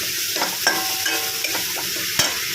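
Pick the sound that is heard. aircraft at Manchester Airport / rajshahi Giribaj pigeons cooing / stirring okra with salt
stirring okra with salt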